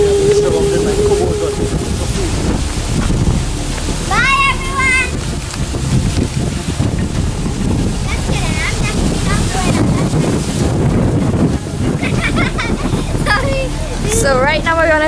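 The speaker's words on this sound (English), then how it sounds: "the wind is blowing the camera lenses" Wind buffets a camera microphone outdoors in a home vegetable garden among pea plants, a loud constant rumbling roar throughout, with a few brief bird chirps and faint voices breaking through.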